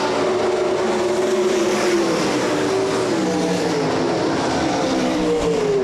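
Race cars circle a track in a weekly racing series with sprint cars, engines droning steadily and loud throughout, pitch sweeping as cars pass in a close three-car battle.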